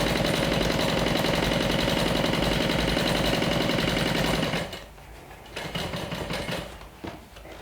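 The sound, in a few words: sewing machine stitching bulky seam of a bag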